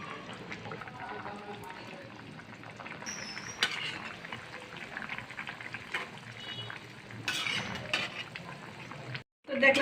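A pot of fish curry with young river hilsa and taro roots simmers at a rolling boil, a soft bubbling and hiss beneath low background talk, ending in a brief cutoff and a louder burst.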